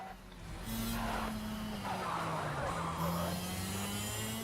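A superkart engine drones steadily through a timed lap in the racing game Project Cars, a continuous buzzing tone rising and falling with throttle, loud and unbroken with tire scrub beneath.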